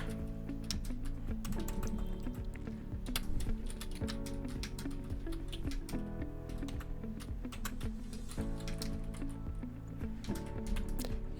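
Someone types Python code on a computer keyboard: a dense, irregular run of crisp key clicks over a steady tonal background hum, with no talking.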